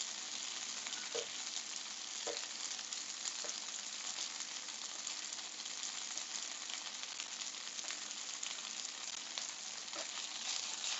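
Crawfish jambalaya fried rice made with precooked packaged rice sizzles loudly and steadily in a pan, with occasional scrapes and taps as it is stirred.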